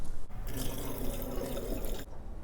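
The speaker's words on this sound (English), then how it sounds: "Now we go ahead and drain it." Boiled pig tongues are drained in a kitchen sink, with water pouring and splashing steadily for about two seconds at close range.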